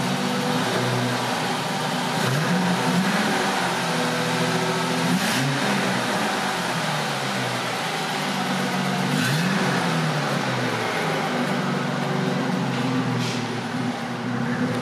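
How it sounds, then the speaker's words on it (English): A 2002 Ford Mustang engine running close by, rising in several slow revs from a steady idle, loud and continuous. "Give it a little bit of gas. Thing sounds pretty strong."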